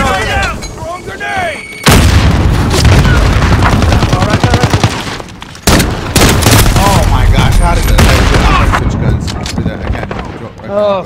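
Grenade blast and heavy gunfire in the Modern Warfare shooter, a sustained roar of rapid shots and explosions filling most of the clip, with a brief gap midway and a player's excited voice over the start.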